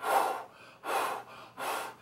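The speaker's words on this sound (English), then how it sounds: "So when you guys see me doing these high reps, I'm breathing" Heavy, rhythmic breathing during a high-rep, light-weight shoulder workout: three loud, forceful breaths, evenly spaced and close to the mic, with no talk.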